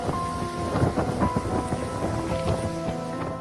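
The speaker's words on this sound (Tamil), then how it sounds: "ஆந்திரா, தெலுங்கானா மாநிலங்களில் கடந்த 2 நாட்களாக கனமழை பெய்து வருகிறது" Heavy rain pours during a thunderstorm from a depression making landfall in Andhra Pradesh, a dense steady downpour with low rumbling thunder beneath it, with no talk.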